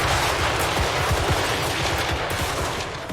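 Troops open fire in a tactics video game, a dense rolling volley of rifle shots crackling steadily for several seconds at a moderate distance.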